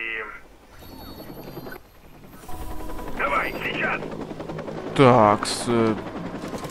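Helicopters in the video game Watch Dogs whir beneath bursts of gunfire-like crackle and a sustained roar, with someone talking over the action.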